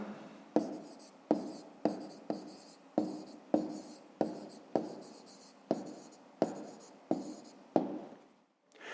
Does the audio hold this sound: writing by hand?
yes